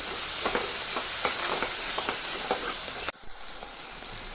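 Turmeric is stirred into chicken pulao in a sizzling pan, giving rhythmic close scraping strokes over a steady hiss. The stirring stops abruptly near the end, leaving quieter frying.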